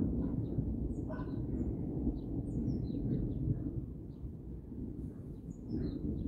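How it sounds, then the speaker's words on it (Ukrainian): Low, continuous rumbling thunder rolls in the distance over a garden in Dnipro while birds chirp faintly on top. "Піде дощик і гримить."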